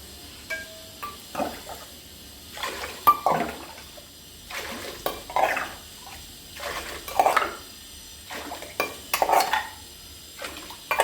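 A stone grinding slab being washed by hand in a kitchen, with repeated splashes of water, wet scrubbing and scraping knocks coming in irregular bursts, fairly close and without talk.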